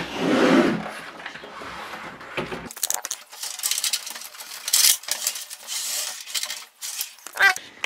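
A desktop PC tower case is turned over by hand, giving a run of close clattering, knocking and sliding handling noises with light metallic rattles from the case and its panels.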